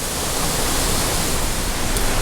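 A waterfall in a wild gorge roars steadily and loudly, a constant broadband rush of falling water with no pauses and no voices.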